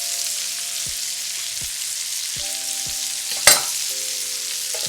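Minced garlic sizzles in a hot pan around seared lobster tails, a steady bright frying hiss throughout with faint low clicks and one sharp pop partway through.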